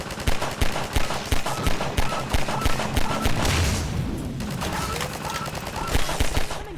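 Rapid, dense gunfire in Half-Life 2: Episode 1, loud bursts of automatic shots stacking into a continuous barrage with brief lulls, close and dominant throughout.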